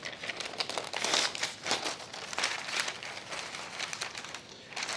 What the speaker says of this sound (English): Or you could take a sheet of parchment, as I'm going to do. I will fold this in half.